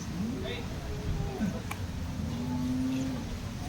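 A Holstein Friesian cow at a busy cattle market in Loni gives several drawn-out, low moos over steady background crowd and market noise.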